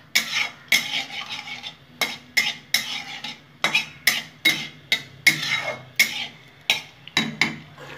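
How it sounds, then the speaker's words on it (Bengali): Black cumin and dried chilli tempering fry in a pan while a metal spoon stirs and scrapes in a steady rhythm of sharp clinks, with a faint sizzle underneath. "ভালো করে ফোড়নটা একটু ভাজা ভাজা করে নেব।"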